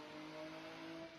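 A Nissan Z car drifts with its engine revving, a faint, steady, droning tone holding a constant pitch as if heard from a distance or through a stream.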